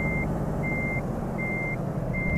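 A truck in Euro Truck Simulator 2 backs up, its reversing alarm sounding four evenly spaced beeps over a steady engine drone.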